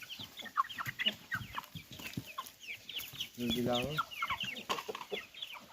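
2.5-month-old chicks clucking and peeping in a dense, busy chorus close by, continuing throughout with a brief spoken question in the middle.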